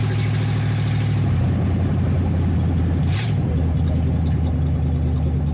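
A 1931 Ford Coupe engine drones loudly and steadily from inside the cabin on a test drive, with its exhaust hanging loose underneath; a deep, continuous rumble holds throughout with only slight shifts in pitch.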